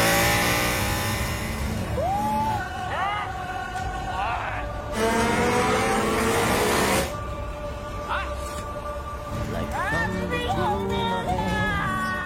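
A convoy of six motorcycles rides out in celebration, with engines revving in rising whines and steady droning passes, some bursts louder and nearer than others.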